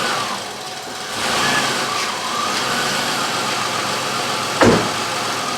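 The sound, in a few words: 2003 Chevrolet Impala engine started and idling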